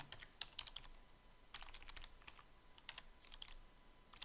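Keys on a computer keyboard being typed in Microsoft Word, tapped in short irregular bursts with brief pauses, quiet and close, no voices.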